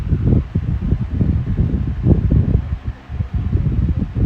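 Electric fan running on low speed, a close, steady airy whoosh with uneven rumbling gusts that rise and dip without a break.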